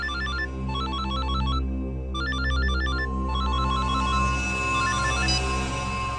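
A telephone rings on a bedside line in a crime drama scene, a repeating electronic ringtone in steady bursts with brief pauses, loud and close, with a sustained tone underneath and no talking.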